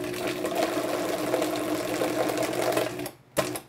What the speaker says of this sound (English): We are going to put it in our Vitamix, the Basomatic, if you will, and kind of cover it, and we're going to just hit it on low.